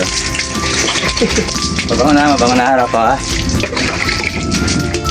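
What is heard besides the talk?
shower water spraying while bathing pet dogs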